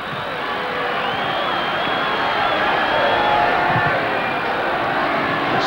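A stadium crowd of over 28,000 at a 1981 World Youth Championship football match between Australia and England, cheering in a steady, loud, distant roar that holds for several seconds.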